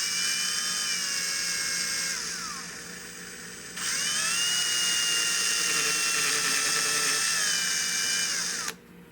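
Power drill spinning a drill bit during repair work on a Browning Superposed Mallard shotgun, a loud high whine that runs, winds down briefly around the middle, restarts and then cuts off near the end.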